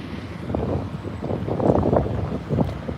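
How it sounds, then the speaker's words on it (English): Wind gusts buffet the microphone outdoors at Starbase in Boca Chica, Texas, a low rumbling roar that swells and fades in uneven bursts, close and fairly loud, with no talk. "There's wind out here."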